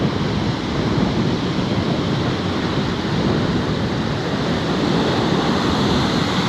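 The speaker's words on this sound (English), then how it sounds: "the wind is really pushing that water wave after wave" Strong wind drives ocean surf onto an Outer Banks beach under red-flag conditions, a loud, unbroken wash of crashing waves blended with gusty wind noise on the microphone, no voices.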